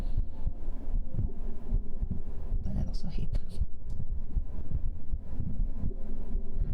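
Heartbeat sounds from a binaural 3Dio ASMR recording: a steady, close, muffled low thumping rhythm running throughout, with a person talking softly over it.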